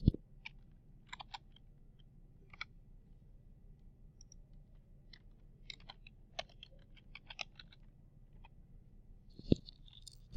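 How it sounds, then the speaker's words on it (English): Keys click on a computer keyboard as a word is typed, a scatter of quiet, close, irregular taps with short pauses over a faint low hum. "So I'm going to type a word in now."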